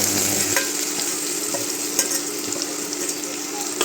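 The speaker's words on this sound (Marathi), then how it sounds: "त्याला छान असं आपल्याला एक दोन मिनटं आपल्याला हे तळून घ्यायचं" Asafoetida, turmeric and leftover stuffing masala frying in hot oil for stuffed brinjal bhaji give a steady, fairly loud sizzle and hiss throughout, with a few soft stirring clicks.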